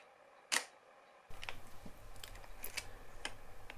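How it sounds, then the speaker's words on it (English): Shutter of a 1961 Soviet KMZ Start film camera fired at 1/60 second, its slow second curtain failing to close fully: one sharp, close click, then a series of lighter mechanical ticks and handling noises. "set it to 1/60th of a second and trigger the shutter, you can see that the second curtain is very slow and it doesn't actually close fully"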